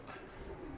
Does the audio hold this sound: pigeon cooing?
yes